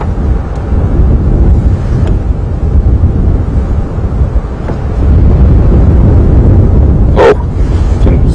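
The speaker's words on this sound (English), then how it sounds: "Yeah, that wind gusting." Gusting wind on an open crest during a morning safari drive at Djuma Game Reserve buffets the microphone with loud, continuous rumbling that swells stronger partway through, with no talk.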